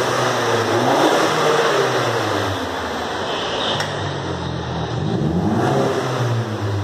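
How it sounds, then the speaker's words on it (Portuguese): A 2016 Ford Fusion Titanium turbo fitted with a remote-controlled exhaust diffuser revs. It gives a loud, sustained engine drone that rises and falls through several throttle blips, recorded close to the car. "Acelera aí, Gustavo."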